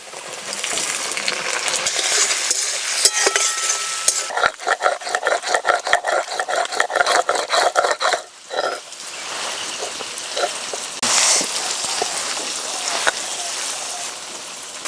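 Tomatoes frying in a pan with chillies and onion for a Bengali fish curry, a loud, dense sizzle with crackling and stirring clatter that rises and falls, continuing throughout the clip.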